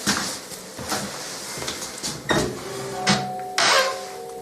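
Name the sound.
door opening or closing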